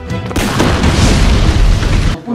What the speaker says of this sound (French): quand la bière elle explose vraiment ou c'est. Non, c'est un effet spécial.